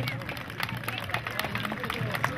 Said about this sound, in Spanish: Fuerte el aplauso para el segundo premio.